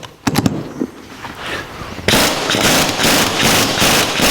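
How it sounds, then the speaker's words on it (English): An impact gun drives a yoke down onto the pinion gear of a Ford 9-inch rear axle being rebuilt for a 1949 Chevrolet gasser, with a few sharp knocks first and then a loud, sustained rattling hammer in rapid bursts. "I'm going to use an impact gun to pull the yoke down onto the pinion gear"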